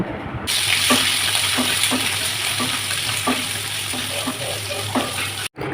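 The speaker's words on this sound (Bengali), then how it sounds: "মেথি ফোড়ন দিয়ে একটু নেড়ে সবজিগুলোকে দিয়ে কিছুক্ষণ ভেজে নেব।" Vegetables fry in oil tempered with fenugreek seeds for a Bengali rohu fish curry, giving a steady close sizzle with soft stirring scrapes at regular intervals and no talking.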